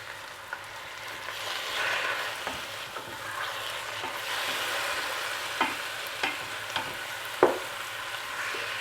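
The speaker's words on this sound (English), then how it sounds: "Now you saute these tomatoes with the onions" Tomatoes and onions sautéed in a pan for tomato rice, a continuous close sizzle with repeated spoon scrapes and a few sharp clinks toward the end.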